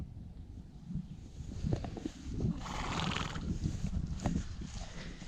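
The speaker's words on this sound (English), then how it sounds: "Ah, the two horses." Horses whinny and snort at a moderate distance, with a longer neigh in the middle over soft outdoor background noise.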